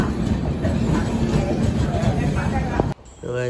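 A crowded passenger train to Goa rumbles along with a steady rattling roar and murmuring passengers, then the noise cuts off abruptly near the end as a voice speaks.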